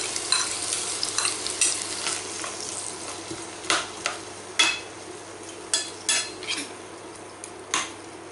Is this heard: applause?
no